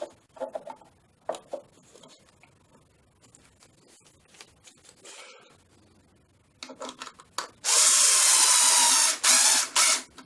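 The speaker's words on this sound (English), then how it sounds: "we can put our screw in" Screw driven into a wooden board: faint clicks and taps, then a loud, steady whirring buzz of a powered driver in two close bursts near the end, with no talk.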